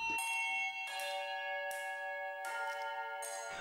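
Bells ring out at the Frome Festival with bright, sustained tones. Fresh strikes arrive roughly every second and layer over lingering hums, with no voices present.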